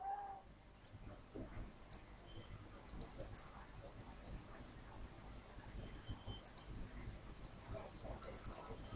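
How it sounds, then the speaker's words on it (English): Sharp computer mouse clicks sound a few times against steady background hiss and low room noise. They come at irregular intervals, each click quick and fairly faint. "move the mouse cursor inside, click"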